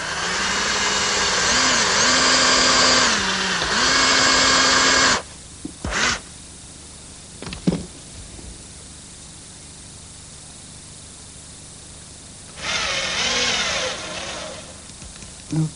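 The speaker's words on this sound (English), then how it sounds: "Now I'm just going to drill a pilot hole for a screw." Power drill boring a pilot hole for a screw in wood, with two loud sustained whirring bursts near the start, brief clicks and bumps, then a quieter stretch before another whir starts up near the end.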